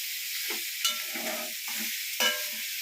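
Beef stir-fried with onions and masala in a hot pan, steady sizzling with several scraping stirring strokes, close and alone.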